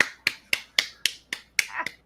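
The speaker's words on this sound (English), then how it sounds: "that's me clapping" Eight sharp, evenly spaced claps or snaps, one roughly every quarter second, close and fairly quiet, with no talk.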